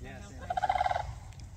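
One rapid rattling call from a sandhill crane rings out for about half a second over a low outdoor rumble, fairly faint and distant.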